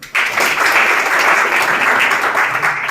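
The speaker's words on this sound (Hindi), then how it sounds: "ताली बजाइए" A crowd breaks into loud, dense applause that starts suddenly and continues steadily, close and sustained throughout.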